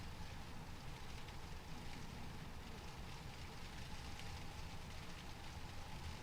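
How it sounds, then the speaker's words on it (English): Rain in Microsoft Flight Simulator falls on an A320 airliner as a dense, continuous hiss of drops, steady and moderately faint throughout with no voices. "The rain. That's incredible."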